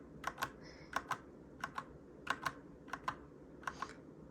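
Typing on a Magegee backlit keyboard: quiet, close keystrokes tapped in small bursts of two or three, about a dozen clicks in an even, unhurried rhythm over faint room hiss.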